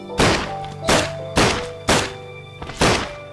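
A Luger handgun from a World War Two gun mod for Minecraft fires five loud, punchy shots in a steady rhythm, each a short thump that decays quickly, with no other sound between them.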